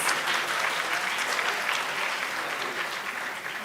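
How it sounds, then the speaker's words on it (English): An audience gives sustained applause for the winners of a group dance competition at a youth consultation plenary session, a steady, moderately distant wash of clapping with no pauses. "Can we have a round of applause?"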